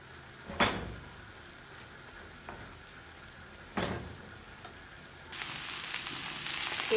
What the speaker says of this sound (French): Donc je mélange le tout et je laisse mijoter.